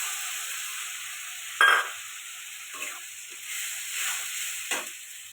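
Onion and tomato paste frying in hot oil, with bay leaf and dried chilli already in the pan. A steady close sizzle runs throughout, broken by a few short louder bursts as the mixture is stirred.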